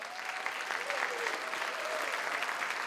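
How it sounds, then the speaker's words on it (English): At a Miss World Guam pageant, an audience gives moderate, steady applause at a modest distance, with faint voices blending into the clapping. "Let's give a round of applause for Dr. Mary Okada"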